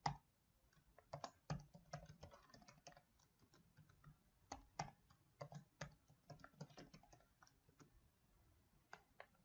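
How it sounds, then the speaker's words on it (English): Someone types a password on a computer keyboard while setting up Server 2012, producing quiet, close, irregular key clicks in short flurries with pauses and no talking. "Go ahead and type in a password."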